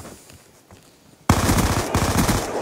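MP7 submachine gun firing in a video game: quiet background gives way at once to a loud, sustained automatic burst of rapid shots that runs to the end.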